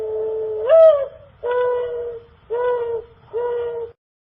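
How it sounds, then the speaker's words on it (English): A dove cooing in four separate, evenly spaced calls, each a soft low hooting note, close and clear against a quiet background. "Dove."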